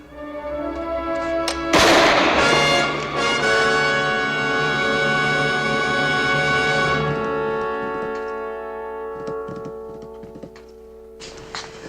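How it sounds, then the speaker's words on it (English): A single sharp gunshot crack from a 1960s TV western, followed by a long sustained orchestral chord that fades out. "It was gunfire. I shot a man."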